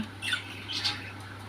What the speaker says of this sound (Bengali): আমরা সকালবেলা আমার পাখিদেরকে থানকুনি পাতা দিচ্ছি